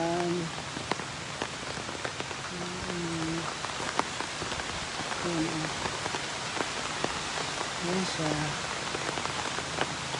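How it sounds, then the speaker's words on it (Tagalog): Heavy rain falls steadily during a flood, a close, dense patter of drops on surfaces throughout, while a person speaks briefly a few times over it. "Naririnig yung ulan, lakas. Ang lakas ng ulan."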